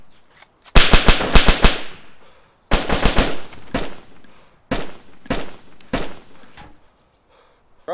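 Rapid bursts of automatic gunfire in a video game, loud and close, coming in several separate volleys with short gaps between them.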